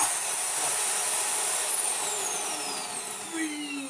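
Vax Air Lift Steerable Pet Max vacuum cleaner running steadily, a loud close whine with a slowly falling high tone as it vacuums off dirty filters, no voices.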